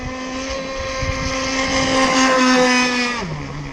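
A ZippKits Vbox RC gas boat runs on the water, its small two-stroke engine buzzing loud and steady up close, holding a high whine before the pitch drops near the end.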